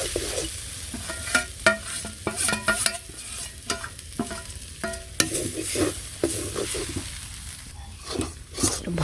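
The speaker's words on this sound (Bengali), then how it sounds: "ভালো করে শাকের সাথে পিঠালুটা মিশাইতে হবে, মানে যে গোলাটা।" Rice-flour paste being stirred into leafy greens frying in a pan: repeated sharp scraping and clacking strokes of a spoon over a continuous close sizzle.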